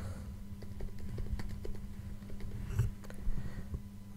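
Keys on a computer keyboard tap out text in an irregular, moderately quick rhythm, close and fairly soft over a faint steady background hum.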